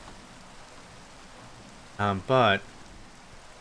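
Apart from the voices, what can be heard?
rain falling, from video game Minecraft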